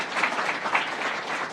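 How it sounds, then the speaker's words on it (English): An audience at an education event applauds a school principal, a short, dense wash of steady clapping with no speech over it. "let's give a round of applause to our great principal"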